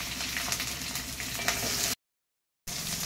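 Ten to fifteen green chilies fry in hot oil in a pan, giving a steady, loud broadband sizzle that runs unbroken for about two seconds, drops to silence, then resumes.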